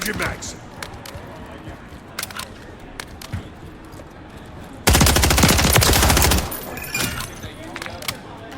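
A rapid burst of automatic gunfire from a Call of Duty game rings out loud and sustained for about a second and a half, amid quieter scattered shots and background game noise while people talk.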